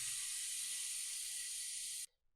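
A pressure cooker full of rajma releases a loud, steady, high-pitched hiss of steam after its whistle weight is lifted off. The jet runs unbroken for about two seconds and then cuts off sharply into near silence.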